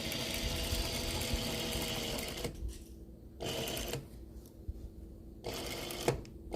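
A sewing machine stitches premade binding onto a quilt, its steady mechanical whir running in several bursts separated by short pauses, fairly close and even in level.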